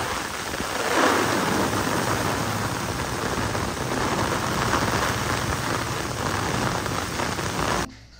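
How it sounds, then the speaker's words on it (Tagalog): Heavy rain pours steadily in a dense, hissing roar, loud and constant, then cuts off abruptly at the end. "Kahit yung ulan niya, ang lakas, oh."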